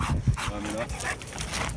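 A dog whimpers and yips excitedly in short, close bursts, with a person's voice murmuring alongside.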